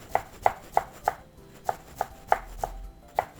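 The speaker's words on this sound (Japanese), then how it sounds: "こうやって包丁をですねスッスッスッと入れていく。" A knife chops steadily on a cutting board, finely mincing vegetables for soffritto, about ten crisp, evenly spaced taps with a brief pause midway, close and clear.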